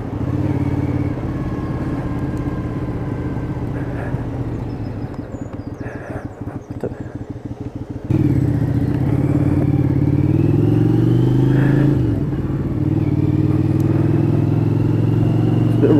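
A motorbike ridden to work on a morning commute, its engine droning steadily and loud throughout, dipping in the middle then surging back with a rising pitch as it picks up speed, plus some clatter.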